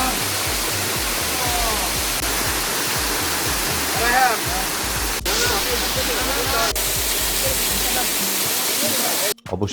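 Nafakhum waterfall in Bangladesh sends out a dense, steady roar of falling water, loud and close, with faint voices and a few knocks over the constant rush.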